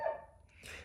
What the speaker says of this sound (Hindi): जैसे अब ये कुत्ता भौंक रहा है यहाँ